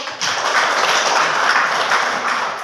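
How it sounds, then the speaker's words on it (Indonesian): A classroom of students clapping together, a steady, dense wash of applause held for a couple of seconds without a break. "tepuk tangan dulu"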